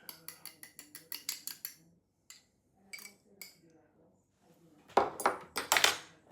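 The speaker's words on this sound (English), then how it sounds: "2 whole eggs and 1 egg yolk that I want to mix up a little bit and put this in" Two whole eggs and one cold egg yolk being whisked in a bowl, giving a quick run of light clinks and taps with short pauses, then a louder, busier burst of clattering near the end.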